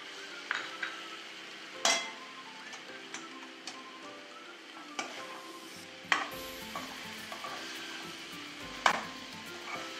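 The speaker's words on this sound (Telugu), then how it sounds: "ఇప్పుడు కోసి పెట్టుకున్న టమాటా ముక్కలు 2 టమాటాలు" Chopped pieces from two tomatoes cook in a pan for chicken drumstick curry, with a quiet low sizzle broken by a few sharp clinks and scrapes of a stirring spoon against the pan.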